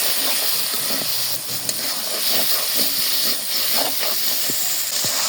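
Turmeric, coriander, chili and salt are fried in a pan, giving a steady close hiss of sizzling oil with small crackles and pops throughout.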